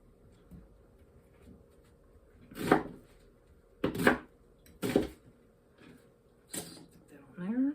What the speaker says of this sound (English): I'm just going to give this onion a nice rough chop